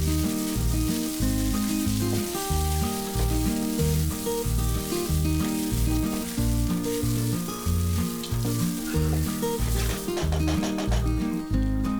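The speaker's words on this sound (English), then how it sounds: "Then fry the rice in ghee and with the spices for 2 to 3 minutes." Soaked basmati rice fries in ghee with whole spices in a pan, a steady, close crackling sizzle with dense popping that continues throughout without talk, while background music plays underneath.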